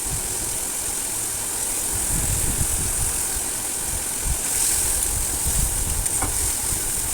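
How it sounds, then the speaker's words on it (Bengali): Spice paste with ginger paste and a splash of spice-rinsing water sautéing in a pan for chicken dhokar dalna, giving a steady close sizzle with occasional stirring scrapes and no talk. "মশলা ধোয়া জলটাও দিয়ে আমি ভালো করে মশলাটা কষিয়ে নেব"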